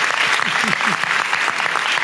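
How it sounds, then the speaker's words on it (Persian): An audience applauds at a gathering honouring a teenager who has memorised the Quran: dense, steady clapping from many people throughout, with faint voices mixed in. "تشویقشون کنید"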